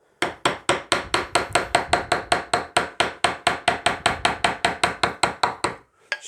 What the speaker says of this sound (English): Start working that material out with a chisel.